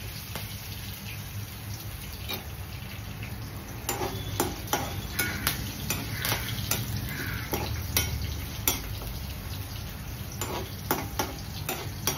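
Mustard seeds, curry leaves and chillies frying in hot oil for kande pohe, a constant crackling sizzle with sharp pops and spoon taps scattered through, growing slightly busier midway.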